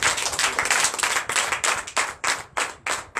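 A church congregation clapping together in acclamation, a close, loud run of sharp rhythmic claps with no voices over it.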